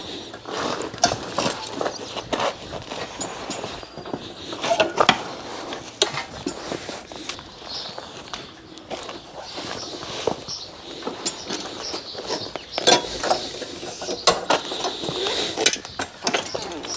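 A horse-drawn hay mower's cutter bar is lifted, giving irregular metallic clanks, ratcheting clicks and knocks that are close and uneven, with outdoor rustle and no speech.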